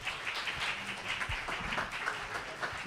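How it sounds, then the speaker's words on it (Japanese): An audience at an award ceremony claps to welcome a runner-up recipient, a steady patter of many hands at moderate distance, loose and unsynchronized throughout. "はい、拍手でお迎えください。"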